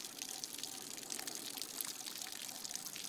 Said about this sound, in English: literally tip the excess water off